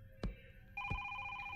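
In the horror game Is Simon There?, a telephone starts ringing with a steady electronic trill that keeps going. Two dull thuds are heard nearby, one before and one as the ring begins.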